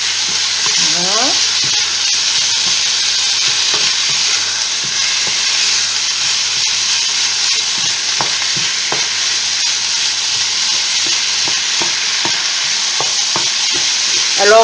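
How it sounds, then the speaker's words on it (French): Minced meat frying for bolognese, stirred in a pan with steady loud sizzling and hiss, broken by repeated scraping and clinking strokes of the spoon throughout. "Alors on remue bien de façon à ce que la viande ne fasse pas de paquets, des petits tas, des boulettes."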